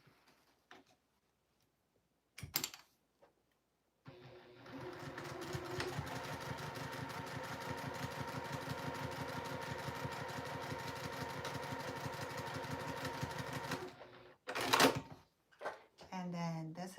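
Sewing machine stitching the seams of a Santa caddy, a steady rapid mechanical whirring that runs for about ten seconds between quieter handling clicks, with brief speech before and after.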